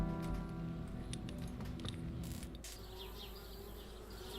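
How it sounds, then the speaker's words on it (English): Bees buzzing around a treehouse in the video game Anna's Quest, a soft continuous insect drone with faint tonal music underneath. "Darn bees, trying to move into our treehouse."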